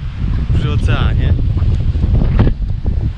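Strong wind roars steadily by the Atlantic ocean shore at La Mareta, Tenerife, buffeting the microphone in a loud, continuous low rumble, with brief bits of a voice in the middle.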